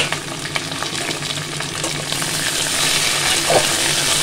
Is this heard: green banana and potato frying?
yes